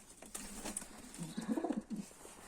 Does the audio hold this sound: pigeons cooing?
yes